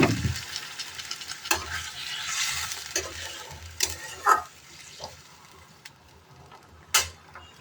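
Potatoes for a potato-paneer pulao stir-fried in a pan, with a steady background sizzle broken by several sharp scraping and clanking strokes of a spatula against the pan, close and fairly loud.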